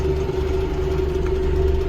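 A Kubota 7040 tractor engine idles with a steady, even mid-pitched hum that holds unchanged throughout, close and fairly loud, with no voices.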